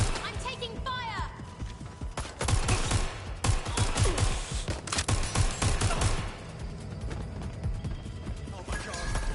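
Heavy gunfire rattles through a Watch Dogs Legion firefight, with dense bursts and rapid shots over continuous action noise, under shouted in-game voices.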